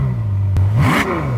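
A Ferrari F12 Berlinetta with a 6.3-liter naturally aspirated V12 gives a quick, loud, close rev, its engine tone climbing sharply from a steady idle hum and then settling back.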